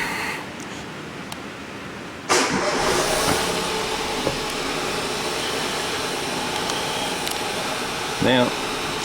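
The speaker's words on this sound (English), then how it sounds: "I'll just start the car up," A 2012 Ford car with a 1 litre three-cylinder turbocharged engine and a turbo control performance fault (code P132B) starts. A sudden loud catch is followed by a steady idle drone that keeps running, with a brief louder flare near the end.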